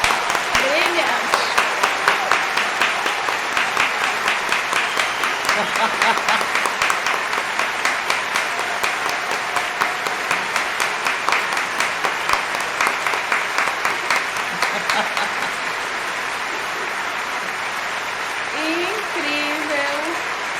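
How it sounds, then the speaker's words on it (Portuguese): Sustained applause from a theatre audience after a performance from Les Misérables, a long dense wash of clapping that slowly fades, with a voice talking over it near the end. "Olha como os aplausos, né? Eles são longos."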